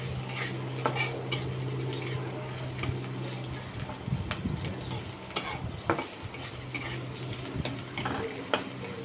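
Onion and a few garlic cloves fry in a pan with a soft continuous sizzle, while a metal spoon stirs and knocks against the pan in scattered clinks and scrapes, close by and without speech.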